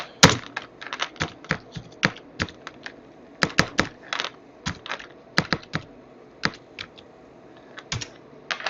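Someone types on a computer keyboard while editing an SSH config file in the nano editor, producing irregular, close, crisp keystrokes in quick bursts with short pauses.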